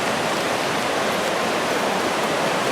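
Sope Creek rushes steadily past old paper mill ruins on a rainy day, a dense, even roar of flowing water that stays loud and unbroken throughout with no voices.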